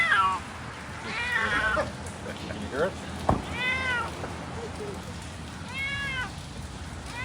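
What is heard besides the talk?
cat meowing after rescue from house fire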